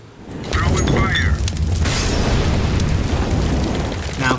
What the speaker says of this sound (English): Throwing fire.